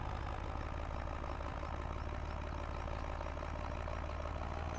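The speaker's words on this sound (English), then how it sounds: "You can see even this tractor struggling a little bit, pulling this big old baler up the hill" A farm tractor labours uphill towing a big old hay baler, its engine giving a steady, heavy, continuous drone with no talk over it.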